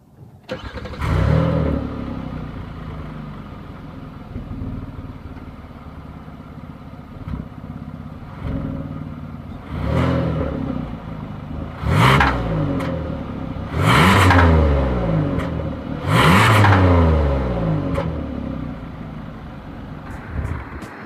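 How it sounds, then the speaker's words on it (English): A 2020 Kia Telluride SUV's exhaust burbles at idle, then revs up in several loud, throaty bursts that fall back to a low rumble between them. "here is that exhaust clip"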